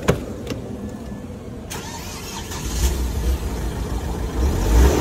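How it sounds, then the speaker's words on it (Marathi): A car engine, unused for about two months, cranks briefly, catches and starts on the first try, then settles into a rising, rumbling idle close by. "गाडी एका सेल्फमध्ये स्टार्ट होते की नाही"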